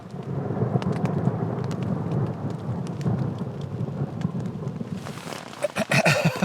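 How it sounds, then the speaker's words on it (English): Rain patters steadily on a camping tent along a wooded trail, a dense close drumming of drops with a deep rumble of thunder beneath, growing sharper and louder with heavier splashes near the end. "Pitter-patter of rain in the background?"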